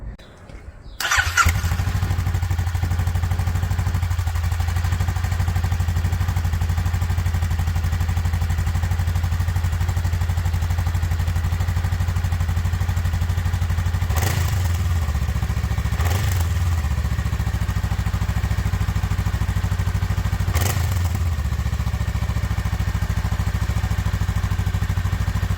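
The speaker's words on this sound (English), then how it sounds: "I'm going to play the sound of the stock exhaust with obviously no other engine or anything modifications done to the bike" Stock exhaust on a 2021 Honda Rebel 500 motorcycle starts up and settles into a steady, loud idle with a deep rumble, broken by three brief throttle blips near the end.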